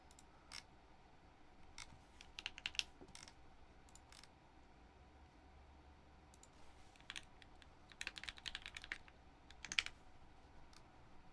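Typing on a Lily mechanical keyboard: soft, scattered clicks of keystrokes with quieter gaps, picking up into denser bursts near the end, all faint and close against a quiet room background.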